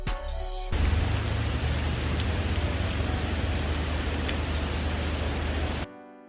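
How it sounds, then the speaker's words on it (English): Heavy rain pours outside as a dense, steady hiss close by, starting abruptly and continuing unbroken for several seconds, with a low rumble underneath. "It's a very cloudy day today and it's starting to rain."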